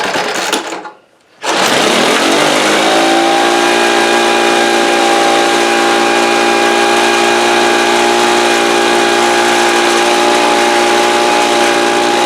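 A Craftsman 4-cycle leaf blower engine, just started after priming and choking, runs loud and steady with a sustained whine and mechanical drone, preceded by a brief quiet gap at the start.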